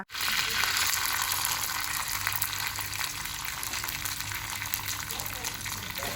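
Curry leaves and onions hit hot oil in a pan for a chicken pepper gravy, bursting into a loud, close, continuous sizzle that holds steady throughout.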